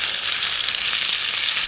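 Steak sears in hot olive oil at a riverside campsite, giving a steady, dense, close sizzle with no voices.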